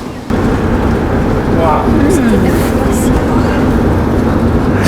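A desert sandstorm in Morocco roars around a moving car as a loud, continuous broadband rush of wind and blowing sand, steady throughout, with a person briefly exclaiming.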